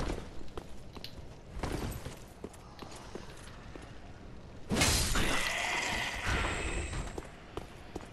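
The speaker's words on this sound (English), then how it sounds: "Yeah, we broke his shield." In Dark Souls 3, an enemy's shield breaks with a loud, bright shattering crash midway through, then rings out over steady game ambience, preceded by scattered clanks and footsteps.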